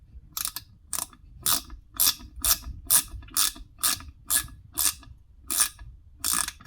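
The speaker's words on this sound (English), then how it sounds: "we can just ratchet it a little bit" A Wera mini ratchet clicks through about a dozen short, evenly spaced ratcheting bursts, crisp and close, with no voices.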